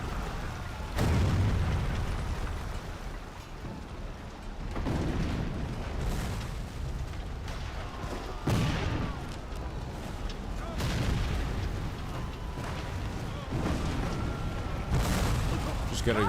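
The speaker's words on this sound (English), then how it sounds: "Just gotta throw some grenades. Haha, boom." Grenades explode in an Xbox 360 Civil War video game: a series of heavy booms roughly every few seconds over a steady battle din, with a player talking in between.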